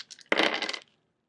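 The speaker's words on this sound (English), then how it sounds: "I'm going to go ahead and throw the dice of resonance" Dice of resonance thrown onto a surface, a single short clattering tumble that rattles briefly and then settles into silence.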